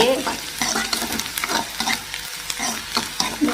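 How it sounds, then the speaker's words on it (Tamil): Onions sautéing in a pan: steady frying sizzle with rhythmic scraping stirs of a spatula, close and fairly loud, with no talking. "வெங்காயம் ஓரளவுக்கு வதங்கிருச்சு"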